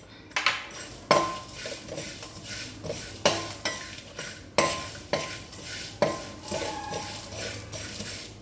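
Whole spices and chili seeds dry-roasting in a pan while a metal spoon stirs them, a steady scrape of ladle on metal recurring every second or so over a faint crackle, close up, with no voices.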